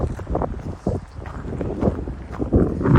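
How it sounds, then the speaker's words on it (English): Strong outdoor wind gusting and buffeting the microphone in uneven rumbling surges, rising louder toward the end. "And this wind's picking up big time."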